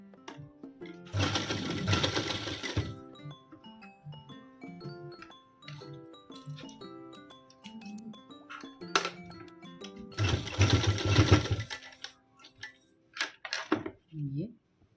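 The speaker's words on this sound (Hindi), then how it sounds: "यहाँ से हमें सीधी एक सिलाई लेके आनी है इसके ऊपर" A sewing machine stitches patchwork onto a trouser hem in two loud bursts of rapid stitching, separated by softer handling clicks and thumps, with someone speaking quietly in between.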